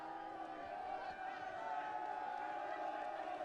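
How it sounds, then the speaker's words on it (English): A crowd at a high school football game in Arlington makes a steady roar of chanting and cheering in the stands, carrying on evenly at moderate volume in the background. "We got some noise from the crowd here tonight in Arlington's last regular season game."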